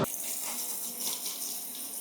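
Water runs steadily from a hose or tap, rinsing a Kawasaki CLX700 Sport motorcycle during a wash, a close, continuous splashing hiss with no voices.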